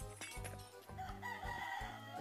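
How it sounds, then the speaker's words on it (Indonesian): A Minecraft 1.16 rooster crows near an iron golem farm, a fairly close call over pulsing low game background tones, with no speech. "Waduh, ayamnya bunyi. Bunyi sekali."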